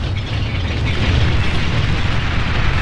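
A commander unit blowing up in the real-time strategy game Beyond All Reason, a loud, sustained rumbling explosion with dense low-end roar that holds steady for a few seconds without talk.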